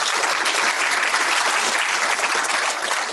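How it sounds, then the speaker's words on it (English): Loud, sustained applause from a seated audience at a medical innovation day session, dense clapping that holds steady with no pauses and no voices standing out. "Let's give them one more round of applause."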